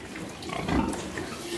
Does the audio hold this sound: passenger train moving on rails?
no